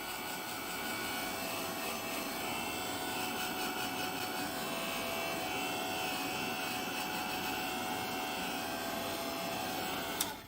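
A heat tool drying a mixed media layer on a scrapbooking piece, a steady blowing whir with a faint whine that runs unbroken for about ten seconds before cutting off, with no talking.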